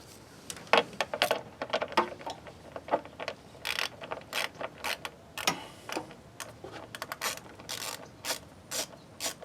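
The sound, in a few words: 7 mm ratchet removing a clamp on a Volvo S60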